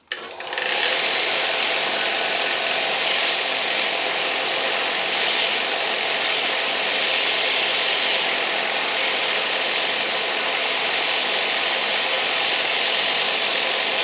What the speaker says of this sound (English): The socket's too big, so we're going to have to grind one down.